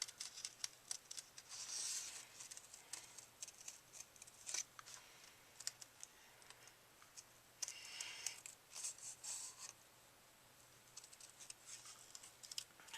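Scissors snipping along the ruffled outside edge of a paper doily for a Valentine's card, quiet and close, a run of small crisp cuts with short pauses.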